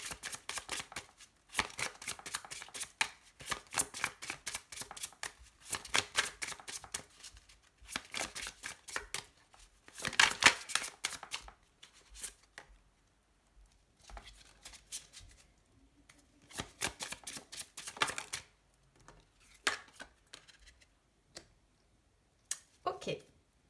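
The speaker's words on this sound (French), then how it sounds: "Je vais essayer de mettre les cartes le plus correctement possible." Tarot cards are shuffled in repeated quick riffling bursts and then laid down with soft slaps and taps, close by, while someone talks between and over the card sounds.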